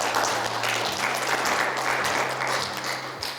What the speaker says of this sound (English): Let us clap hands for Macmillan.